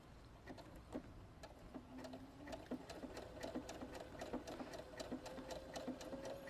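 A Brother Innovis NS80e sewing machine stitches along a fabric edge, a fast, even mechanical whirring with rapid ticking, steady and fairly faint throughout.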